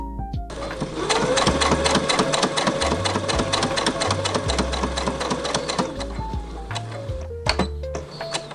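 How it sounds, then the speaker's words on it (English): A sewing machine rapidly stitching fabric pieces for a mini Christmas stocking, a fast, even mechanical chatter running for several seconds with brief stops and restarts. "Let's sew the pieces together."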